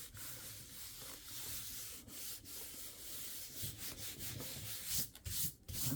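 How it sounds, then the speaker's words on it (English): Hands and a bone folder rub steadily across a handmade journal cover, giving a continuous close, dry scuffing and sanding-like friction with small surges, no voices. "Rub it with our hands, and then we'll use that bone folder."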